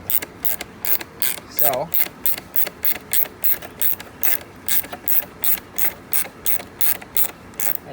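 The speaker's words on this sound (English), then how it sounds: "if you turn clockwise, you'll see that it slowly is pulling that bolt in, which is loosening this whole back shield" A bolt being turned clockwise to draw it in and loosen the rear headlight shield on a 1999-2006 Chevrolet Silverado, heard as a steady run of rhythmic ratchet clicks, close and fairly loud, with a brief voice at the start.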